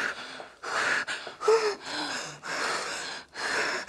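A woman in labour breathes heavily through a contraction, with repeated loud gasping inhales and exhales in uneven bursts, close and alone without talk.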